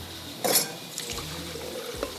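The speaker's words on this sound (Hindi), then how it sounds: "तो इसको हम क्या करेंगे, यहाँ पर डालेंगे थोड़ा सा पानी" A little water is poured onto rice while making Peshawari kheer, a brief close splash followed by faint trickling over a steady kitchen hum.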